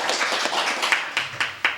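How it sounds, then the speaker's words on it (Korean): Audience applause at a policy forum in a provincial council conference hall, a small group clapping with several distinct sharp claps toward the end, moderately close. "박수 크게 쳐주시고요"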